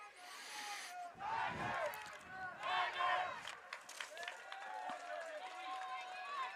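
Crowd noise from spectators at a girls' high school soccer senior game, Waterville at GAHS, swelling in two loud bursts of shouting and cheering, with voices calling over the steady outdoor murmur.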